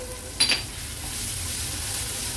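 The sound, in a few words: stirring and sautéing tomatoes with masala in a pan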